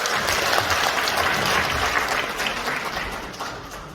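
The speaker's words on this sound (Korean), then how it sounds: "큰 박수로 환영해 주십시오." A hall full of people at a 2022 People Power Party members' training event in Gumi gives a dense burst of applause to welcome a speaker, loud at first and gradually tapering off.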